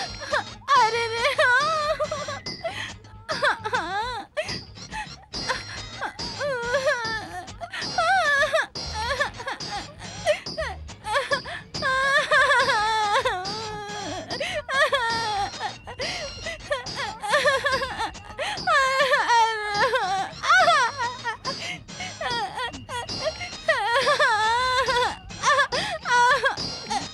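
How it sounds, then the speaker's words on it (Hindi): A person sobs and wails in a Hindi film scene, the crying rising and falling continuously and loudly from the start, with dense tonal vocal cries and some gasping throughout. "अंदर संगीत की बजाय रोने की आवाज आ रही है।"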